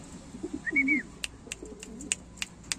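A young pigeon gives a few soft low coos close by, followed by a faint rising whistle-like call and scattered light clicks, quiet overall.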